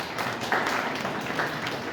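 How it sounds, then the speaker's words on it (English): Audience at a Shivratri spiritual gathering giving a round of applause to welcome first-time visitors, a short burst of dense, moderately loud clapping without any talk. "Give a big round of applause and welcome them."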